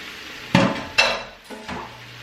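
Leftover jerk marinade seasonings being scraped from a plate onto salmon in a pan: a few loud clinks and scrapes of utensil against dishware, close up, with no voices.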